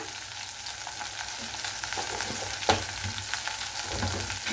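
Black cumin and whole cumin seeds hit hot oil in a pot for a bottle gourd and moong dal dish, producing a steady, dense crackling sizzle with one sharp click partway through and no voices.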